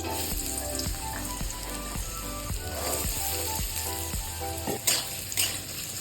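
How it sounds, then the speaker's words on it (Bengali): Potato pieces fry in hot white oil with whole cumin seeds, giving a steady, moderate sizzle punctuated by soft, regular taps and scrapes of stirring. No one speaks. "আলুটাকে কিছুক্ষণ ভেজে নেব"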